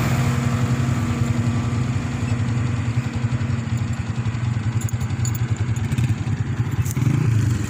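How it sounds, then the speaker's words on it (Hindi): A tractor engine runs steadily nearby with a throbbing, clattering mid-low drone, loud and continuous throughout. "ट्रैक्टर"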